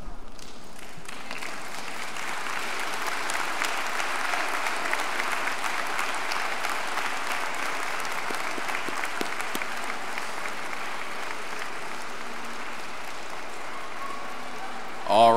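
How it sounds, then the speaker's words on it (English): Large crowd applauding steadily at the 2022 Cuyahoga Falls High School graduation, graduates standing and clapping for the families behind them, a dense continuous roar of hands that stays level throughout. "I'd like you to stand up, turn around, and applaud the people sitting behind you."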